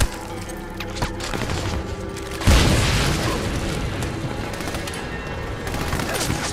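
A grenade detonates during a gunfight in the video game Army of Two: The Devil's Cartel, a sudden deep boom that cuts through steady rattling gunfire, then rumbles and decays while shooting continues.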